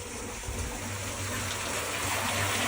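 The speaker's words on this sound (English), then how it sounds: "the water is gurgling out, and it's all flooding out into the next tank" Water gushes and gurgles steadily from a pump in a septic dosing tank, flooding into the next tank as a dense, continuous close-up rush with a low churning rumble and no pauses.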